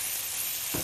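Meat frying in a pan: a loud, steady sizzle close by, swelling slightly near the end as the food is stirred or moved, with no talking.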